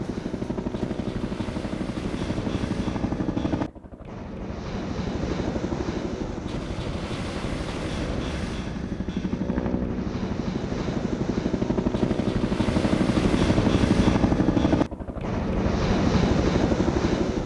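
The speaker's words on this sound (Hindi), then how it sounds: "Mi-24 जो कि एक कॉम्बैट हेलीकॉप्टर है, इससे हाइड्रा रॉकेट दागे यूक्रेन ने।" Steady roar of a Mi-24 combat helicopter's engine and rotor, loud and continuous, with two brief dips in level.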